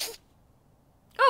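A single short, sharp sneeze at the start, followed by a brief silence and then a person speaking.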